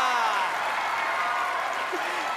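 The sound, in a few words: studio audience applause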